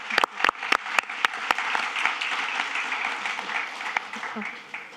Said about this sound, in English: And also a very big round of applause for the excellent speakers that we had here, Salil, Sevgel, Daimar, Steph.